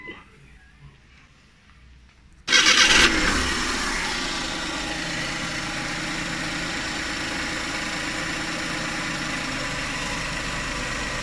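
A Suzuki Every Wagon DA6 turbo engine cranks briefly and catches, then settles into a steady, loud idle that holds for the rest of the stretch after a quiet start.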